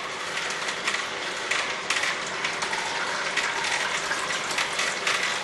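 Omega VRT330 auger juicer crushing grapes, a steady dense grinding and crackling churn with scattered sharp pops, close and continuous without talk.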